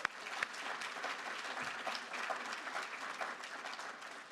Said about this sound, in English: I actually think we should give Mel another round of applause